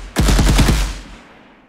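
A rapid burst of about six gunshots from a weapon in an Unreal Engine third-person shooter game, loud and punchy, followed by a fading reverberant tail.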